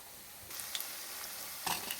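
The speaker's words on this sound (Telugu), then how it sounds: "ఇది చూడండి, ఇలా వేయించుకోవాలండి, ఇలా కొంచెం డార్క్ కలర్ వచ్చేటట్టు వేయించుకోవాలి." Chicken 65 pieces frying in oil, a soft, even sizzle under occasional stirring scrapes, fairly quiet and close, with no voices.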